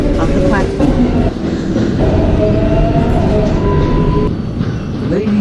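A 7 subway train in a Roblox game rolls along loudly and continuously, with a steady rumble and rattling wheel noise, while a recorded announcement voice plays over it.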